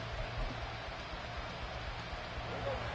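Steady rain hiss falls on the field in the Madden 24 football video game, a constant soft wash of noise filling the scene with no distinct drops standing out.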